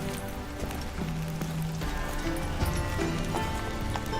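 Roach the horse galloping in The Witcher 3, a steady clip-clop of hooves over a game soundscape with rain-like patter and music, no talk.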